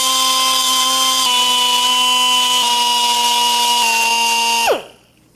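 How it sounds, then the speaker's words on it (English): A pneumatic die grinder working on metal for a handmade metal flower, a loud steady high whine with strong harmonic tones holding for nearly five seconds, briefly dipping in pitch, then spinning down and cutting off. "Let me get the die grinder"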